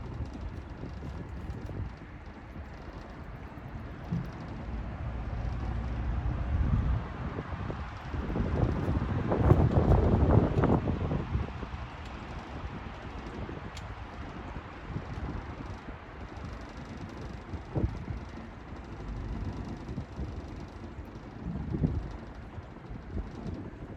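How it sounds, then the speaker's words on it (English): Strong gusty wind outdoors, around 20-mile-an-hour gusts, buffets the microphone in rough low rumbles, swelling into a heavier blast midway before easing back to an uneven, fluttering roar. "it's nice out, but it is so damn windy. It's like 20-mile-an-hour wind gusts"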